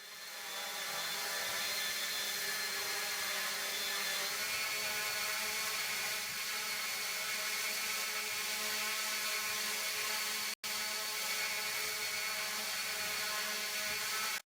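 A hexarotor drone's six rotors drone steadily as it presses against a force-torque sensor. The motor whine is loud and close, with tonal bands holding for the full stretch apart from one brief dropout.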